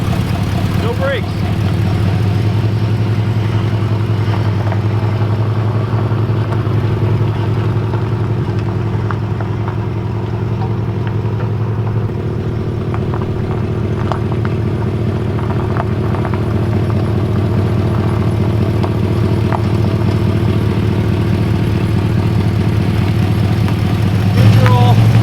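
An old 1988 Oldsmobile Cutlass with a 307 engine, abandoned for 15 years, runs in gear with a steady, loud low-pitched rumble that lasts throughout, while a person talks over it.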